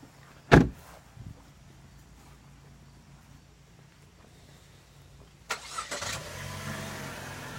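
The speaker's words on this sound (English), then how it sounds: "So, as I get the vehicle started" A Chevy Cruze heard from inside during a test drive: a short, sharp thump near the start, a quiet idle, then the engine catching with a louder, rougher hum that settles into a steady running drone.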